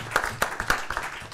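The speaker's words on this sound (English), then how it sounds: "Another round of applause for the commitment of Honduras." At a conference session on landscape restoration, clapping comes as distinct individual claps in a loose, uneven rhythm rather than a dense wash, moderately loud and close.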